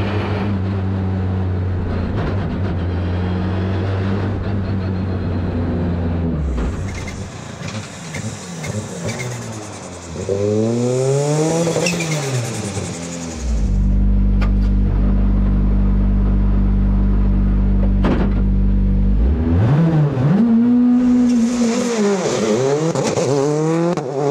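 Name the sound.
Citroën C3 Rally2 rally car engine revving through gear shifts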